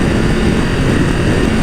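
A Triumph Tiger 1200 GT Explorer's three-cylinder engine is held at high RPM, a loud, steady, buzzing drone with a dense rough vibration that continues without break.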